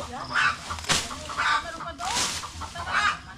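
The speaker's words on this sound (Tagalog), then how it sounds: "Manok!" Chickens cluck in repeated short bursts nearby, a few soft calls spread across a few seconds with light background noise.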